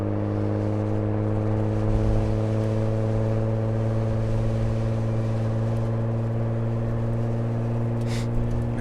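A Porsche Macan SUV with a modified exhaust drones steadily at constant speed on a winding mountain road, a continuous low engine hum and cabin rumble with no voices.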